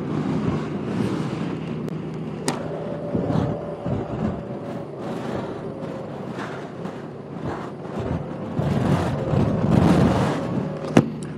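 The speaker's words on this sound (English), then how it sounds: "Now we can see what this bike can do." A 2018 Honda Goldwing motorcycle being ridden, its engine rumble rising and falling under heavy, gusty wind roar, with occasional sharp clicks and no speech.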